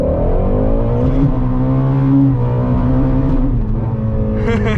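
Ford Mustang GT350 launching hard and accelerating through the gears, wheels spinning, its engine note climbing loud and continuous in steady harmonic sweeps with shifts between rising pulls.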